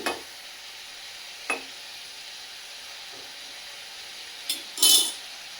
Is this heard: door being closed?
no